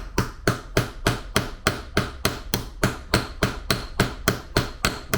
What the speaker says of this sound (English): I always start out with the flat side of my hammer and then I'll flip it over.